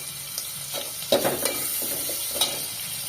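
Onion and bay leaf frying in hot ghee on a home kitchen stove, a steady close sizzle with a few louder crackles and stirring scrapes, no talking.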